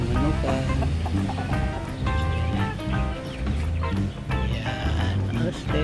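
Heritage chickens in a small backyard farm cluck and call in repeated bursts, the clucking quite close and mixing with a voice that talks throughout.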